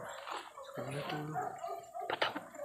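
Several dogs bark and yip a short distance away, mixed with excited human voices talking over them.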